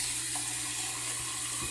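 A tap runs steadily to rinse a shaving brush during a head shave, a constant full splashing rush of water with no talking.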